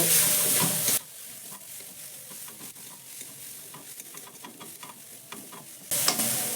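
A spoon stirs a cooking mixture in a pan with chopped coriander leaves and garam masala powder, making soft scraping and light sizzling up close, framed by louder bursts of hiss at the start and end.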